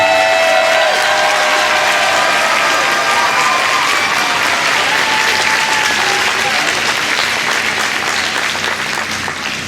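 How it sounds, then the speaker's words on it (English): Concert crowd at a band show claps loudly and continuously, a dense sustained round of applause that tapers slightly toward the end, with a voice faintly present. "deserve a huge round of applause for all the work that they've done"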